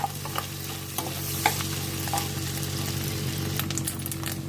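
Dried prawns frying in a hot pan for an egg and drumstick curry, a steady close sizzle and crackle with a few sharp pops and stirring clicks throughout.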